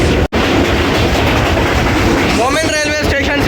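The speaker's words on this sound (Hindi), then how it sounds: "मोमिन रेलवे स्टेशन से पास थ्रू हो रही है ट्रेन" A train passes through Momin railway station with a loud, continuous rumble and the clatter of its wheels, and a high squeal rises near the end.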